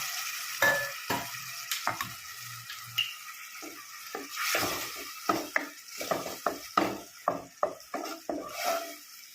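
Lentils are stirred into cooking tomatoes in a pan for Kumbakonam kadappa, with sharp scraping and clinking strokes of a spoon in an irregular rhythm over a faint sizzle.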